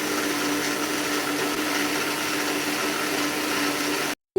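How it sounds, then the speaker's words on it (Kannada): A mixer grinder runs steadily, grinding roasted masala with a little water in its jar, a loud continuous whirring drone that cuts off abruptly near the end. "ಮಿಕ್ಸಿ ಜಾರ್ಗೆ ನಾವು ತಯಾರಿಸಿಟ್ಕೊಂಡಿರುವಂತಹ ಎಲ್ಲ ಮಸಾಲ ಪದಾರ್ಥವನ್ನು ಹಾಕಿ ಸ್ವಲ್ಪ ನೀರನ್ನು ಹಾಕಿ ಚೆನ್ನಾಗಿ ರುಬ್ಕೊಳ್ತಾ ಇದ್ದೀನಿ."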